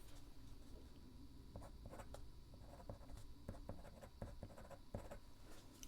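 A pen loaded with Pen BBS teal ink writing on paper, producing faint, quick scratchy strokes and small ticks in an irregular rhythm over a steady background hum.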